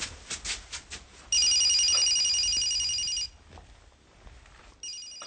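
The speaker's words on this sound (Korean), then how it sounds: "홍한테서 두 번째 전화가 걸려온다" A telephone ringing indoors, a loud electronic bell-like trill that sounds in a long burst after some soft tapping, pauses, then starts again; no one speaks.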